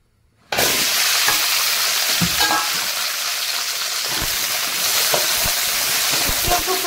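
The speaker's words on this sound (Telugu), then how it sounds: "ఇందులో కొద్దిగా ఆయిల్ వేసుకొని బెండకాయలని వాడుచుకున్నాము." Okra sizzles and crackles in hot oil in a pan, a loud steady fry that starts abruptly and runs throughout, with scattered louder pops and stirring clicks.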